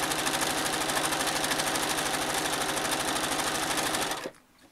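A sewing machine runs fast and loud for free machine embroidery stitching on a postcard, a dense rapid rhythmic whir that stops abruptly near the end, leaving quiet.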